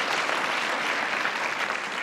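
An audience at a university welcoming event claps in a dense, steady round of applause that stays even for its whole length, with no voices over it.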